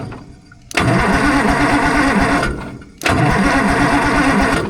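The engine of an old, crusty Allis Chalmers 645B loader cranks over with a stuck number one cylinder, in two loud, steady bursts of rhythmic starter churning, close up, separated by a brief pause, without catching.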